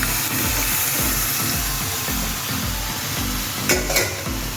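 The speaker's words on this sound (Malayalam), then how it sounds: "ഉമ്മച്ചി നല്ലോണം ഇളക്കി തരുന്നുണ്ട് കേട്ടോ." Passion fruit pickle stirred in a hot pan, a steady rhythmic scraping of the spoon with sizzling underneath, close and continuous, with a couple of brighter clinks near the end and no talking.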